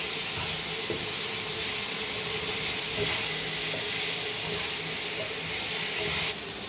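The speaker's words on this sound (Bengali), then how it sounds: "এইবারে এই যে পেঁপে আর আলু ভেজে রেখেছি এটা দিয়ে দেব, দিয়ে আবারও কষিয়ে নেব।" Papaya and potato fry in a pan for a mung dal dish, giving a loud, steady, close sizzle and hiss that runs without pause.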